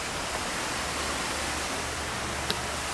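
Backyard terrace waterfall pouring steadily, a dense even hiss of falling water heard close and alone, with one faint tap near the end.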